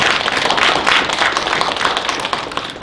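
A church congregation applauds in thanks, a dense, steady wash of many hands clapping at once, loud and continuous throughout with no voices over it.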